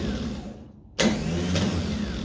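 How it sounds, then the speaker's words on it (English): Starter motor on an HQ GTS Coupe spinning the engine over after about 20 years idle: a loud, steady whirring crank that kicks in abruptly after a brief quieter lull and runs on without the engine catching. "So it throws out the starter pinion gear, turns it over, so I know it's a good starter motor"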